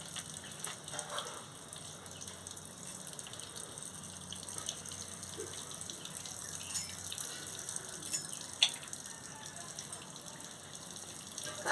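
Steady running water in a kitchen as cut telakucha leaves and murola fish are rinsed, a continuous faint gushing wash with a few small splashes and clinks.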